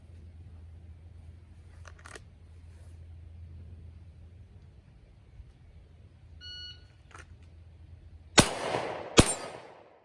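Two sharp gunshots from an original S&W Shield pistol with TruGlo TFX night sights, loud and close, fired less than a second apart after a quiet stretch broken by electronic beeps.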